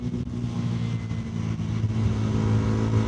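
A motorcycle engine runs as a Saturday morning ride begins, a close, steady mid-pitched rumble that climbs slightly in revs and grows a little louder toward the end.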